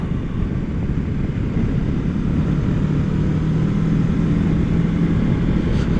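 A 2020 Kawasaki Versys 650 motorcycle ridden through corners, its engine droning steadily with heavy wind rush, loud and continuous throughout.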